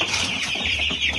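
Chickens in a poultry farm's chicken run clucking steadily and close by, a continuous busy flock chatter with no talk over it.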